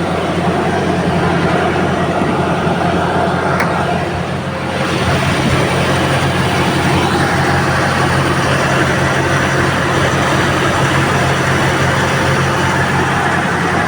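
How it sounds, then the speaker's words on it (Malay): A Ford Ranger T7 diesel engine idles at an abnormally high, roaring speed, a loud, steady drone with a constant hum that continues with little change throughout. "Biasanya untuk diesel ni dia stabil je enjin dia, tapi ini meraum."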